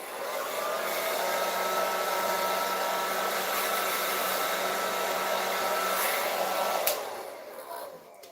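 A hair dryer blows with a steady, loud whooshing roar for several seconds, then tapers off as it is switched down.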